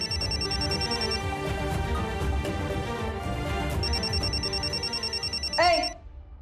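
A household telephone rings in repeated bursts under background music and room sound, then cuts off abruptly near the end, moderately loud and close.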